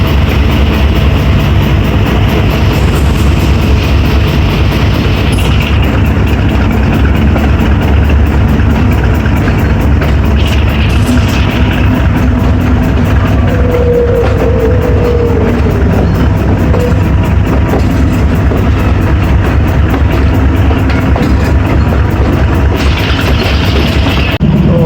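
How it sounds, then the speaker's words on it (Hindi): The Karachi Express train, a passenger train on Pakistan's main line, pulling out of Khanewal, with a loud, steady rumble of engine and wheels continuing throughout and a faint voice briefly heard. "खानेवाल से डिपार्ट कर रही है हमारी ट्रेन"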